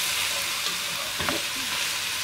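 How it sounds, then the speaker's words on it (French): Meat and vegetables being stirred in a hot pot for boeuf bourguignon with white wine, an even sizzle with a brief utensil scrape midway. "Je vais rajouter ma viande. Je vais bien mélanger les légumes."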